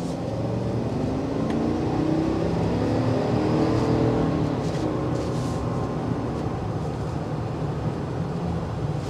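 A 2022 GMC Sierra Denali pickup truck accelerates on a test drive, its engine a steady, loud low drone that swells slightly midway, heard from inside the cab with no talking.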